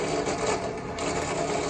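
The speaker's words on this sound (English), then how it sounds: "I'm gonna turn the drill press on. Slowly lower it" Drill press boring through a metal piece resting on wood, a continuous grinding, rasping whir at close range, steady throughout with no talk.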